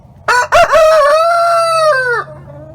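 A Brahma rooster on a farm gives one loud, close crow, starting with short clipped notes and then holding a long, bright cock-a-doodle-doo before it cuts off.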